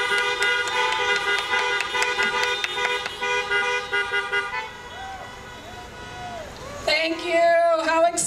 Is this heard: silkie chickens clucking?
no